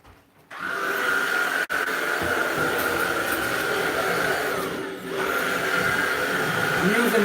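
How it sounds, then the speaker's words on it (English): A vacuum cleaner runs on a floor with a steady, loud, continuous motor whine and airflow roar throughout, briefly interrupted once, with its pitch dipping slightly as the head is moved. "Let me get my vacuum cleaner."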